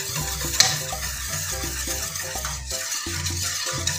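A bean and rice jelly mixture simmers in a pot on a gas stove while being stirred, giving a steady low bubbling sizzle with a repeating scraping rhythm and a brief clink near the start, with no voices.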